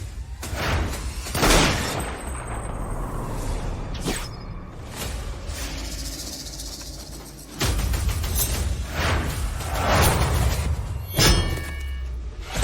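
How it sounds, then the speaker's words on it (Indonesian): Chaotic bursts of gunfire with heavy booms and sharp cracks, loud and sustained over several seconds, thick with noise and impacts. "Tembak, buka tembakan."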